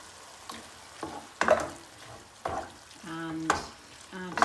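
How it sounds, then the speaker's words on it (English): Canned tomatoes tipped into a hot frying pan for a spicy tortilla lasagne, giving soft intermittent sizzling and stirring scrapes at close range, fairly quiet with no talking. "So I'm going to add the tin of tomatoes"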